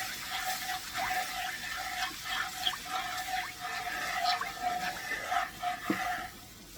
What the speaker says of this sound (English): Okay, so we have this mixture is simmering